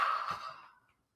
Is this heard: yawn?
yes